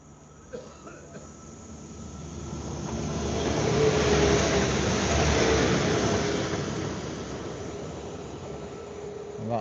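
A train rumbles past, swelling from a distant hum to a loud rushing roar at its nearest point, then slowly fading away.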